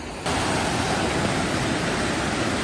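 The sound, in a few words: mountain stream flowing near Nevada and Vernal Falls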